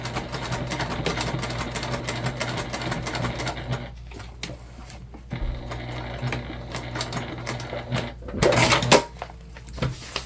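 Sewing machine stitching back over a short section of a waist pack near the zipper tape, a steady close mechanical whir running for several seconds, pausing briefly, then resuming with a louder burst near the end.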